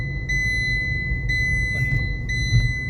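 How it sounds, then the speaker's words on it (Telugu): A car's seat belt warning chime rings three evenly spaced electronic beeps, about one second apart, over a steady low engine rumble inside the cabin. "ఇది మన సీట్ బెల్ట్ సౌండ్ ఎంత ఇరిటేషన్గా ఉంది"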